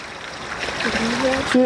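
Water trickles and splashes at a temple purification fountain as hands are rinsed, a close, short dribble that grows toward the end, with voices talking over it.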